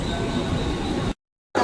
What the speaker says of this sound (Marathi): आम्ही ट्रेन मध्ये बसलेलो आहे